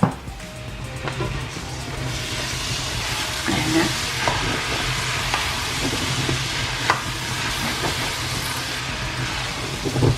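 Rice is stir-fried with prawns and soy sauce in a hot pan, a dense, steady sizzle with frequent scraping and tapping of the utensil as everything is tossed together.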